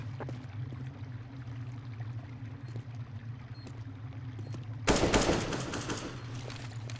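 Gunfire in a Counter-Strike: Global Offensive esports match erupts near the end as a sudden loud burst of shots, following a stretch of low steady game ambience with small scattered clicks and thuds.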